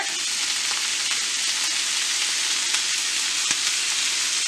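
Fried rice seasoned with soy sauce sizzles loudly and steadily in a hot pan, with a dense, even hiss broken only by occasional faint crackles. No one speaks.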